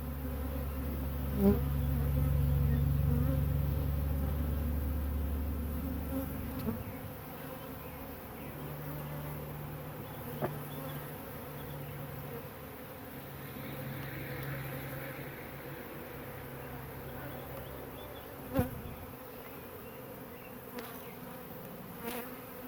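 Honey bees buzz around an open hive during an inspection, a dense, steady drone close by, with low mechanical hum underneath and occasional soft knocks.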